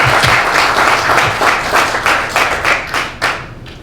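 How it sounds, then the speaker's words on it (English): Audience in a downtown music room applauding to welcome a speaker onto the stage, a loud steady round of many hands clapping close by that gradually eases off. "just welcome John with a warm round of applause"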